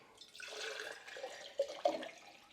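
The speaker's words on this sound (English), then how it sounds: "Filling it with water." Water pours into a large glass jar being filled for cilantro cuttings, a soft trickling rush rising over a couple of seconds with a few brighter splashes near the end.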